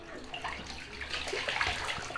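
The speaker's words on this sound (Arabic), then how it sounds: "طبعا هنا بقى البانيو لسه بيتملي اهو تمام بيتملي" A bathtub filling with water from the tap, a steady close rushing and splashing stream that goes on without a break and without any voices.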